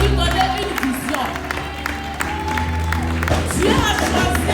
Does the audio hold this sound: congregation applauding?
yes